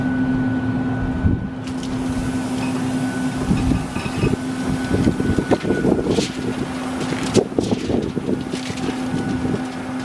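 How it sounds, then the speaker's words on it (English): Loud, continuous wind buffeting the microphone outdoors beside a smoker in the Texas Panhandle, with gusty rumbling bursts and a steady low hum underneath, no voices. "it's really, really windy today here at the Panhandle of Texas"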